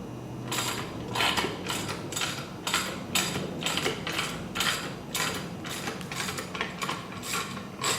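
A ratchet tightens the fill port nut on an air bag suspension setup, producing quick runs of sharp metallic clicks in repeated bursts, close and clear, with no talking.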